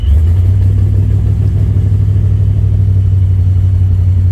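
Supercharged Corvette V8 with a misfire running loud and close, a steady heavy low rumble with a rough, uneven pulse and no talk over it.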